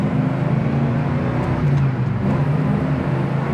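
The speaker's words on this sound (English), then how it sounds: "It's got good acceleration" A 1977 Chevrolet Camaro Z28 accelerating, a steady low engine drone heard from inside the cabin, smooth and moderately loud, with no sharp revving.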